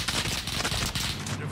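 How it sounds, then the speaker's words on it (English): Rapid bursts of gunfire from the video game Call of Duty, a dense continuous volley of shots with voices over it. "Oh god, who's shooting me?"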